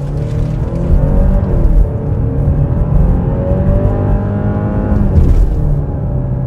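A 2025 Genesis GV70 Sport Prestige AWD compact luxury SUV accelerates while merging into traffic, a steady loud engine hum climbing in pitch under broadband road and tire roar, with no talking.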